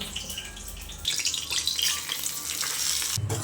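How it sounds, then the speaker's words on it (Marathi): Semolina roasting in ghee in a pan gives a steady, soft sizzle that swells after the first second and carries on close and even, with light scraping and no voices. "आणि आता चांगला हा भाजून घेते रवा इथे तुपामध्ये"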